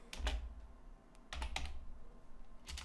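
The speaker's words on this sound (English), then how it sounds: "let's type it in" Computer keyboard typing while entering HTML code, three short bursts of quick clacking keystrokes with brief pauses between, close and fairly quiet.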